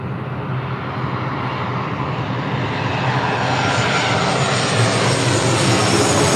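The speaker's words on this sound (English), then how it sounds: "This is Southwest Airlines 979 coming in from Chicago Midway on a 737-700." A Southwest Airlines Boeing 737-700 landing at LAX from Chicago Midway produces a loud, steady jet roar that builds slightly and stays continuous throughout.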